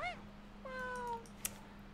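Cat meows in a video game, a couple of short meows followed by a longer drawn-out one, then a brief click, all clear and without talk.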